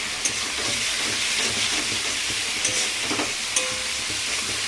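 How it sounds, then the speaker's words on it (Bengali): Fish fries in a pan of hot oil in a home kitchen, giving a continuous close sizzle and hiss with a few faint clicks scattered throughout. "আর এইদিকে দেখো মাছ ভাজা হচ্ছে"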